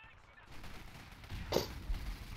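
Artillery fire in a WWII video game battle for Caen, a muffled burst of distant shelling rising under a low rumble with a sharper crack near the middle, fairly quiet overall.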